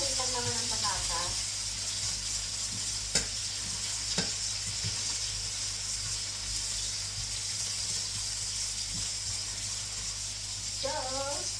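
Potatoes frying in a pan, a steady bright sizzle throughout with a couple of sharp stirring taps, while someone speaks Tagalog softly over it.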